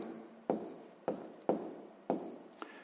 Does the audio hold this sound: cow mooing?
no